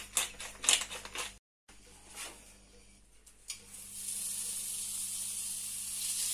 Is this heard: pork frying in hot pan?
yes